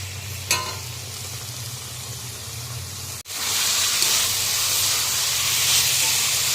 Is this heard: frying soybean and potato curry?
yes